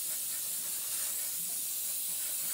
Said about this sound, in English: Just spray it on a little bit, not too much.